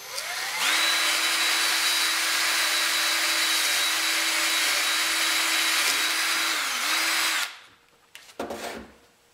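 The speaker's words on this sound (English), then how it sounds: "I'm going to drill the hole, and then we are going to make it big enough to fit our trigger stick in." A power drill bores a hole in wood for a small mousetrap's trigger stick, a loud steady whine running for about seven seconds before stopping, then a few brief clunks and handling noises.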